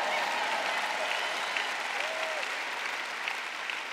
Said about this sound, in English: I got three people clapping over here.